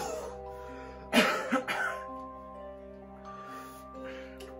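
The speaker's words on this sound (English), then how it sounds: "cool man with dark, sultry lungs and a deep, masculine cough" A man coughs in a theatre stage play, a couple of harsh, close bursts and a throat clear over a sustained musical backing, then the music continues alone.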